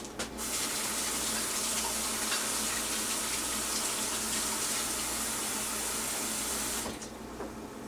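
Water runs steadily from a kitchen tap for about seven seconds while rinsing during brownie baking, a loud, even gush that stops abruptly near the end, with no talk.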